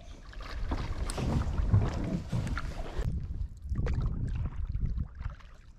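A kayak is paddled on a lake, with splashing water and gusts of wind buffeting the microphone close by. The sound is uneven and moderately loud, with no clear speech.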